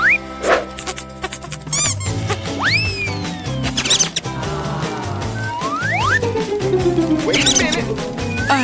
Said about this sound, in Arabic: هل هذا فأر؟